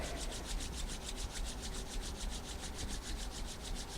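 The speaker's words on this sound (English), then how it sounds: "And then rub the hands together again." Palms rubbed briskly together during a Chi Gung or Tai Chi self-massage routine, producing a close, steady, rhythmic swishing friction of about four strokes per second with no talking.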